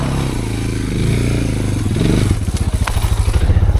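A DR650 dual-sport motorcycle pulls over rocky terrain, its single-cylinder engine loud and close, revving up steadily before breaking into a pulsing, throttled beat with rock clatter.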